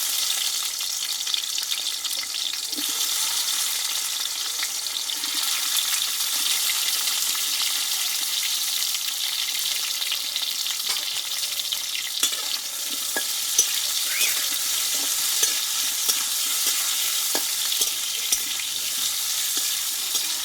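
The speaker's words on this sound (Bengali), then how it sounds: "দিয়ে এই বেগুনগুলো আমি একটু ভেজে নেবো" Eggplant pieces fry in hot mustard oil in a wok for an eggplant and hilsa dish. A loud, dense sizzle runs continuously, with occasional light scrapes and taps as the pieces are turned.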